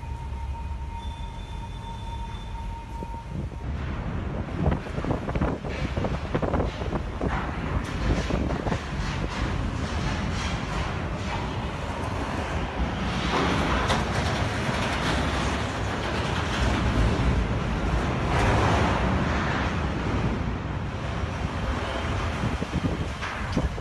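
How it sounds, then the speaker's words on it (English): Strong gusting wind at a dock with a container ship, a dense continuous roar with buffeting surges across the whole stretch, loud and steady, no voices. "suddenly the wind began to blow strongly"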